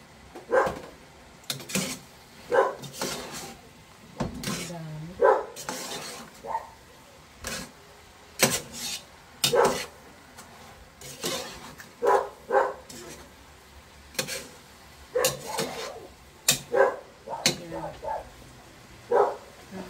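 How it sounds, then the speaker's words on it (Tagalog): A dog barks repeatedly in sharp, uneven bursts through a home kitchen while spaghetti is being cooked, with someone talking intermittently between the barks. "Ingay ng aso."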